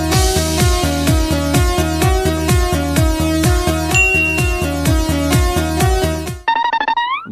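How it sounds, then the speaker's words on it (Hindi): A snake charmer's pipe (been) plays a loud, continuous reedy melody with a steady repeating rhythm and drone for about six seconds, then cuts to a brief rising chime-like tone at the end. "घंटा भर हो गया बीन बजाते बजाते"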